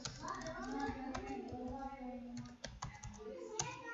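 Keys clatter on a computer keyboard while a programming exercise on linked lists is entered, with quick irregular clicks and a few sharper strikes under a voice talking nearby.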